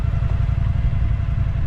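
An old engine idles just after being started, giving a loud, steady low rumble with a fast, even chugging pulse and some light mechanical clatter, with no talk.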